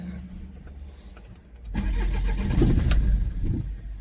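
A Peugeot 607 HDi diesel engine cranks briefly and catches, then settles into a loud, close rumble that swells as it runs, with no talking.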